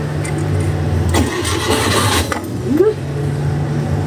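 A car engine in neutral cranks and catches during a start attempt, a short burst of starter whir giving way to a steady low running hum, close and fairly loud throughout.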